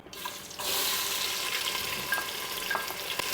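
Two medium chopped onions hitting a hot pan with spices, a steady loud sizzle that erupts after a brief quiet start and keeps frying with small crackles and stirring.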